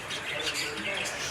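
Many small birds chirping at a bird market in the Kurdistan Region, a busy mix of faint tweets beneath voices talking nearby.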